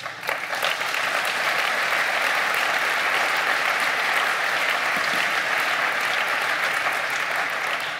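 Audience applause at a political speech by Christian Lindner, a dense, sustained wash of many hands clapping at full volume and steady throughout, with no voices over it.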